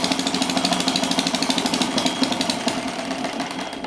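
A small engine pumps air into a balloon, running steadily with a rapid, rhythmic, hammering pulse, loud and close, with no voices.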